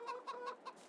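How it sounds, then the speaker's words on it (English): Chickens clucking in the Farming Simulator 22 video game, a henhouse crowded with about 120 birds; four short rhythmic clucks come in quick succession, close and fairly quiet, with no talking. "We already have like 120 chickens in here"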